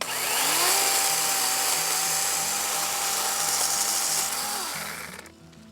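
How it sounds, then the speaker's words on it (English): A chainsaw cuts steadily through a willow branch outdoors, a loud sustained whining engine drone lasting about five seconds before it drops off abruptly near the end. "it cuts through these pretty well, pretty much like any other chainsaw"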